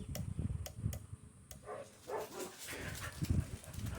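Dogs bark in the distance outdoors, several faint irregular barks and yelps mixed with sharp clicks from nearby handling, fairly quiet overall.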